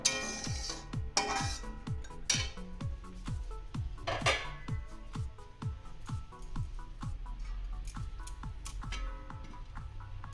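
A metal lid goes onto a pot of rui fish curry with drumstick and bori set to simmer, giving a string of close, rhythmic metallic clinks and ticks with ringing tails.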